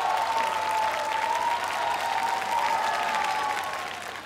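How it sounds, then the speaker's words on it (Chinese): A studio audience at a Street Dance of China show applauds dancers, with steady massed clapping throughout and a faint sustained tone underneath before the clapping tapers off slightly at the end. "让我们再次把掌声送给他们。"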